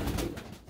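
Pigeons from a second hatched round coo softly in a loft during weaning, a low murmuring that runs steadily through the short moment with no speech over it.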